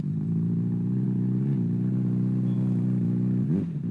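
An inline-four motorcycle engine idles nearby with a smooth, steady hum, then blips the throttle briefly just before the end.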